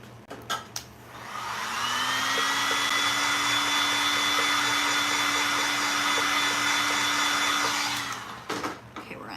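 A hair dryer blows on wet paint on a canvas, starting up after a few small knocks and then running steadily at a loud, even whine for about six seconds before it shuts off, followed by light handling clatter.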